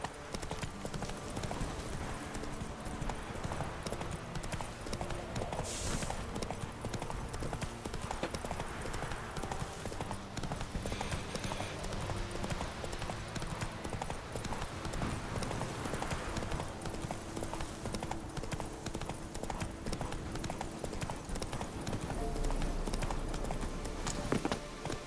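Horse hooves trotting in The Witcher 3 video game, a steady, continuous clip-clop rhythm that carries through the whole stretch, moderately loud, over game ambience.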